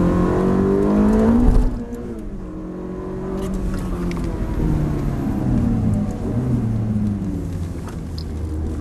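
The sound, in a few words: Ferrari F430 engine revving on a race track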